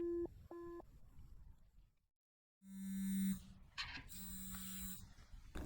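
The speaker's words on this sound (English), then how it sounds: "And the call cuts by itself." A phone call cuts off with short repeated beeps, then silence, followed by a sustained electronic busy tone and further tones. The tones are fairly faint and heard alone.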